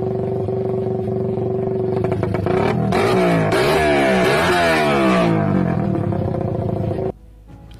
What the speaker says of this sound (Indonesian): dengan menggeber motor yang pernah ditungganginya sebagai penghormatan terakhir